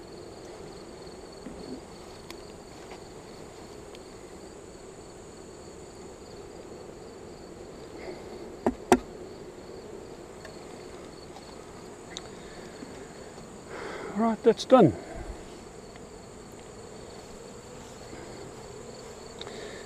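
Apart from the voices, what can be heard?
bees buzzing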